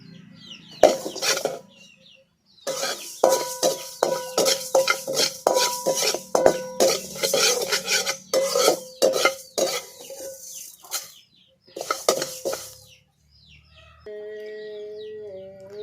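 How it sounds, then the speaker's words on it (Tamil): Moong dal dry-roasting in a pan while a spatula stirs it, giving rapid rhythmic scraping and clinking against the metal. The stirring pauses briefly, resumes, and ends with a few faint tonal bird-like sounds in the background. "பாசிப்பருப்பு நல்லா பொன்னிறமாக வறுபடணும்"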